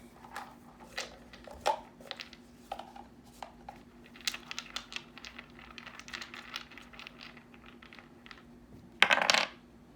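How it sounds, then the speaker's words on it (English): Dice rattle and clatter in bursts of small hard clicks and taps, scattered over several seconds and ending in a louder final tumble. The sound is close and fairly quiet, with no talking. "Let me get a dice here."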